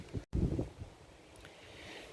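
Strong wind gusting outdoors during a high-wind storm, buffeting the microphone in loud rough bursts for the first second, then easing to a steadier, softer rush.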